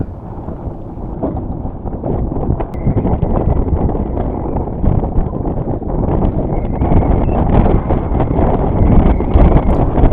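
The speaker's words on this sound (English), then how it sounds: "So as soon as I get her tied up, the winds start picking up again." Gusting wind buffets the microphone at a boat slip after a small sailboat is tied up at the dock, a loud, rumbling low roar that swells and builds over the seconds, with faint rustling and no talk.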